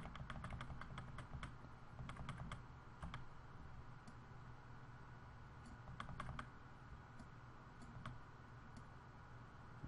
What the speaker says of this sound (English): we'll use our arrow keys to slide that over